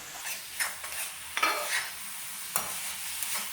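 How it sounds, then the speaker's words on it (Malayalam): Chicken curry ingredients in a pan, Kerala style, being stirred with a spoon over a soft sizzle, with a few clanks and scrapes of the utensil against the pan, close and fairly quiet. "ഇതെല്ലാം കൂടെ ഒന്ന് മിക്സ് ചെയ്ത് കൊടുക്കും"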